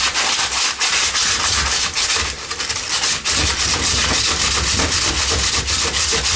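Aluminium foil dipped in Coca-Cola rubbed hard against a rusty chrome steering wheel from the 1970s, a loud, continuous gritty scrubbing with a fast back-and-forth rhythm, close up and alone.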